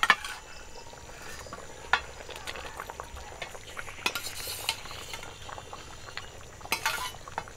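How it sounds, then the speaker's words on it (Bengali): Fried fish pieces go into a boiling taro curry with scattered spoon-on-pot clinks and stirring scrapes over a soft bubbling simmer, close and intermittent. "ঝোলটা ফুটে গেছে, ভেজে রাখা মাছ দিয়ে দিচ্ছি।"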